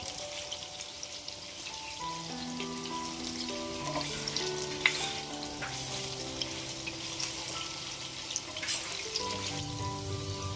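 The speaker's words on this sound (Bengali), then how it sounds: "এবার আমি আস্তে আস্তে করে এগুলো উল্টিয়ে দেবো, পুরোটা ভাজা হয়ে যাবে" Jackfruit fritters frying in oil as they are turned over, a continuous close crackling sizzle with a few brief clinks and scrapes from the turning, no voices.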